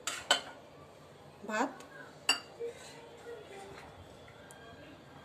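Dishes and cutlery clink while food is served onto a plate for a festival offering, a few sharp metallic taps and scrapes spaced apart, close and fairly quiet, with a brief spoken word between them.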